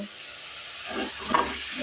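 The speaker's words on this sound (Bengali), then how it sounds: "ভাজা রসগুলো দিয়ে দিব" Fried rasgullas sizzle in a pan with tomatoes, a steady soft frying hiss with a brief stirring scrape partway through.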